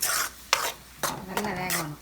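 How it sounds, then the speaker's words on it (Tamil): A spoon stirs minced meat with ground coconut in a pan, making four separate scraping, rasping strokes with soft sizzling between them, close and clear. A brief tonal squeak rises near the end. "சேர்த்து நல்லா கிளறி விடணும்."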